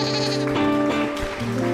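A goat behind a fence bleats in a few wavering, nasal cries one after another, close and clear with no talk over it.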